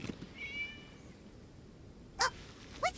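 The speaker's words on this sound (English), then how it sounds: "It was just a cat." A cat meows in the Genshin Impact video game, one soft drawn-out meow followed by two short sharper calls, quiet and alone over faint background.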